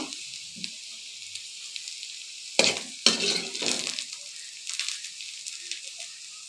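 Potatoes fry in hot oil in a wok, giving a soft, steady high sizzle with a couple of sharp utensil clatters partway through, then quieter scattered crackles.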